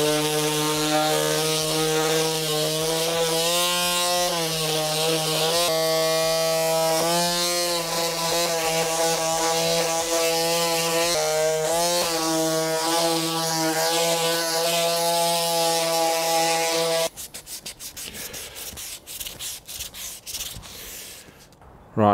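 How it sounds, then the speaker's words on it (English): Power sander working an MR2 Spyder interior trim part ahead of primer, a loud, steady tonal buzz that shifts pitch slightly as pressure changes, then cuts out and leaves scattered rubbing and handling noises. "So I'll get this sanded down now so we can get a bit of primer on it."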